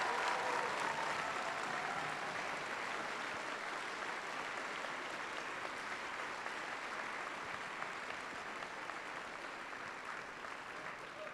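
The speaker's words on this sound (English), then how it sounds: "will all of the teams please give an applause for your coaches and your parents" Sustained audience applause for coaches and parents at the FTC Florida Championship robotics event, a broad, even roar of many hands clapping in a large venue, fading gently over about eleven seconds.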